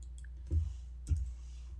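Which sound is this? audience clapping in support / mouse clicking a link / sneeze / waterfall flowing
mouse clicking a link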